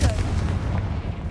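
A Confringo blasting spell in Hogwarts Legacy goes off as a single loud explosive boom that fades into a low rumble over about a second.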